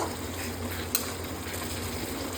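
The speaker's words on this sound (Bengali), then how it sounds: "তোমরা আবার মশলাটা লাড়তে থেকো, ছেড়ে চলে যাবে না, নাহলে আবার লেগে যাবে।" Masala fries in a pan and is stirred, giving a steady close sizzle with a sharp scrape or clack partway through.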